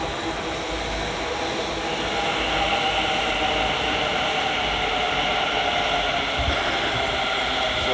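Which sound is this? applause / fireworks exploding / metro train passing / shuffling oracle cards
metro train passing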